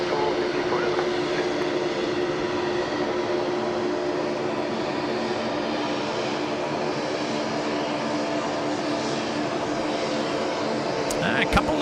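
A Boeing 737 taxiing at Sydney Airport at night, jet engines giving a continuous loud whine and drone with a steady tone, a voice talking briefly near the end.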